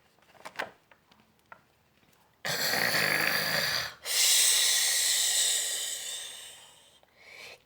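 After a few soft clicks, a dog snores in two long, loud, rasping breaths with a breathy hiss, up close and with no talking.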